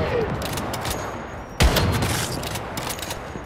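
Grenade launcher bombing in the Once Human video game, a single sharp boom landing mid-clip over a constant rumble of distant gunfire and explosions.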